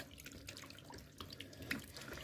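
Cold water runs steadily from a kitchen tap while a homemade laundry gel is being mixed, a continuous close rush and splash with no talk.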